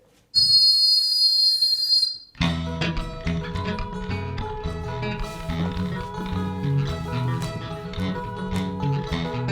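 A sharp, piercing whistle blown as a signal during a stage play bursts out for about two seconds, then gives way to loud rhythmic music with percussion that fills the rest.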